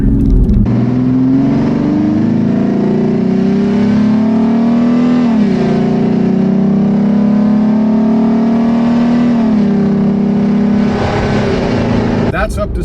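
A Jeep Wrangler engine with an aftermarket cold air intake gives a loud note that climbs steadily in pitch as it accelerates to about 60 mph, briefly dips, then rises again, roaring continuously throughout.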